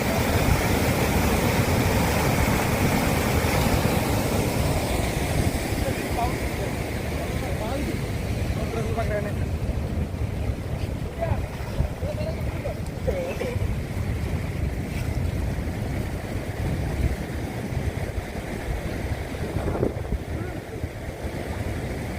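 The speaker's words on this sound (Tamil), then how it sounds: "பாருங்கள் தண்ணி எவ்வளவு வேகமாக பாஞ்சு கீழே இறங்கி இப்படியே போகுதுன்னு பாருங்கள்" Water rushes steadily down the Iranaimadu reservoir spillway in Kilinochchi, a loud continuous roar close by with wind buffeting the microphone throughout.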